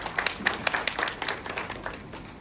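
Faint, scattered applause from an audience at a news-reported event for a Nigerian film screening initiative in Dominica, a few seconds of light clapping with no voices over it.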